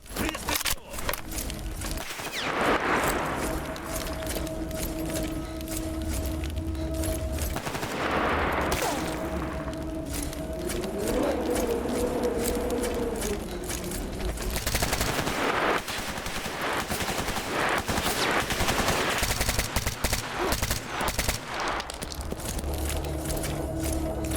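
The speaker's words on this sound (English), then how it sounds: "They are just hell-bent and shooting through this building." Bursts of machine-gun fire rake through a building in the video game S.T.A.L.K.E.R.: Shadow of Chernobyl, loud repeated volleys with short gaps between them over about twenty seconds.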